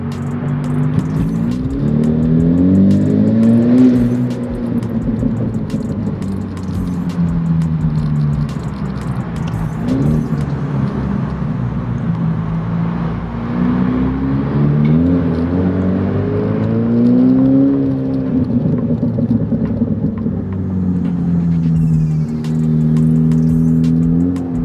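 Car exhaust with a burble tune, accelerating in first or second gear up ramps, a loud, close engine drone that rises and falls in pitch through repeated pulls, no talking.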